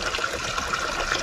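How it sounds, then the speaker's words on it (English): Water trickles and splashes steadily as it drains out of a small boat engine, a soft continuous flow heard close up without talk. "yeah, it's just straight water coming out of it"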